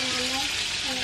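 Dried fish frying in a pan gives a soft, steady sizzle and hiss, with faint tonal sounds drifting over it near the start and end.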